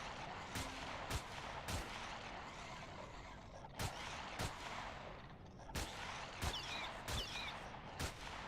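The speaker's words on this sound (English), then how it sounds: "That was a big explosion." Explosions in the video game Empyrion go off as a string of sharp, booming blasts at irregular intervals over a steady low background rumble, with no talking.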